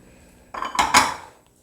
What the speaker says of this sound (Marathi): चला आता पीठ मिक्स करून घेऊयात